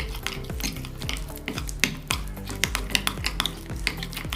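A utensil scrapes and knocks repeatedly against a bowl while spices are worked into a paneer tikka marinade, a quick rhythmic series of close clinks with no talk.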